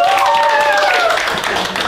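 Students in a school classroom clap together, a loose crowd of hands sounding steadily and close, mixed with excited voices and a whistling or shouting tone over the top.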